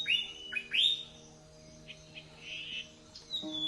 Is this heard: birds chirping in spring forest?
yes